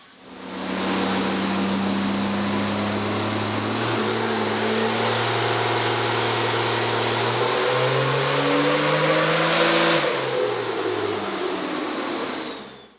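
A diesel pickup truck engine on a dynamometer revs up hard and holds at high RPM with a rising whine for several seconds, then drops back, loud and close.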